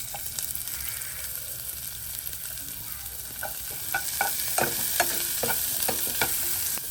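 Onion and green chili frying in hot oil for tempering a Tamil snack: a steady, close sizzle with sharper spatula scrapes and clicks breaking through during the second half.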